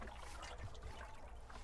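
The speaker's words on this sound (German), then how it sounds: "Joaquim Pinto schöpft Wasser aus seinem Brunnen für den Garten." Water trickles and splashes at close range as a retiree draws it from his garden well in northern Portugal, a soft, steady dribbling with faint low knocks of the container.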